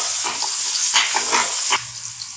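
Onion and green chillies fry in a pan with a steady, close sizzle, broken by a few scraping stirs.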